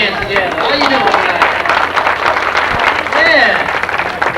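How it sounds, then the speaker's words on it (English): A comedy club audience in Fayetteville claps and applauds steadily, a dense close wash of hands with some crowd murmur running through it. "put your hands together"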